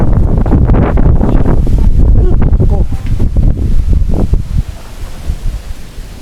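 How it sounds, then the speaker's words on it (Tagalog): Loud, steady rushing wind with dense pattering that sounds like heavy rain during Typhoon Crising in a Philippine village, easing slightly toward the end; no one speaks. "ulan at hangin ang nanarasa dito sa aming barangay."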